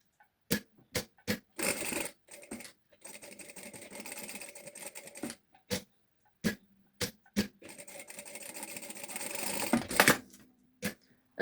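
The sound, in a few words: sewing machine stitching a seam along the line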